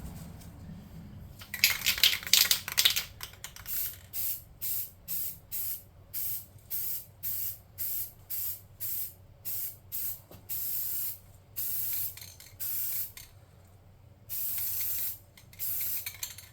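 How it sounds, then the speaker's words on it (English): Close, hissing bursts from a can of black spray paint coating a tabletop game turret model, first one longer blast, then many short, rhythmic sprays with brief gaps, ending in a few longer hisses. "Now I'm going to spray paint it black"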